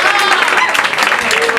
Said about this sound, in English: So, please, by round of applause